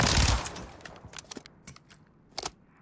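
Hipfire from the Fennec submachine gun in Call of Duty: Modern Warfare: a loud close burst opening, then scattered short sharp shots and clicks at uneven intervals, with a brief louder pair near the end.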